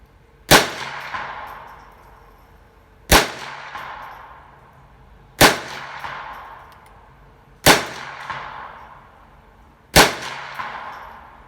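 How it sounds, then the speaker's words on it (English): Ruger 10/22 stainless target rifle firing Remington Thunderbolt rounds at a 50-yard target: five sharp, evenly spaced shots about two seconds apart, each with a short ringing decay, no talking. "So I'm going to do some accuracy shooting with, believe it or not, Remington Thunderbolt first."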